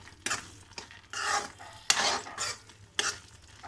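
A spoon scrapes and stirs through thick tomato chutney in a pan, making several separate rough, wet strokes at irregular intervals with soft sizzling, close and fairly quiet.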